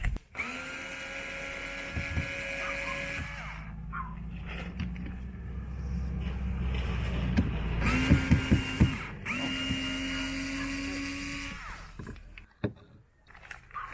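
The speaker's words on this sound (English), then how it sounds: "And then the other way around to loosen the screws." A power driver loosens the screws on the third brake light of a Hymer Exsis camper, whining in repeated bursts that rise and fall in pitch and grind under load in the middle, with brief pauses between runs.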